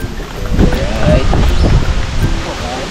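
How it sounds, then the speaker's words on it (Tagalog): Strong wind buffets the microphone with a steady roar, while people talk and shout over it. "Lakas ng hangin."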